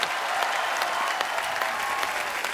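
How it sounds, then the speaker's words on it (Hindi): Dense, loud audience applause in a TV comedy show studio, a continuous wash of many hands clapping at once with no talking over it. "एक बार यूं ही बाजी के लिए जोरदार तालियां हो जाए"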